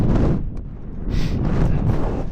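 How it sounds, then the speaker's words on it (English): Gusty wind buffeting the microphone on the summit of Gran Paradiso, a 4,000 m alpine peak at sunrise, loud low roaring surges that dip briefly and then swell again, close and continuous with no talk. "the wind's here as well"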